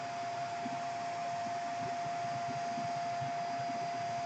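A vacuum tool runs with a steady, loud whoosh of suction and motor hum, holding an even tone throughout as it sucks up loose screws and debris.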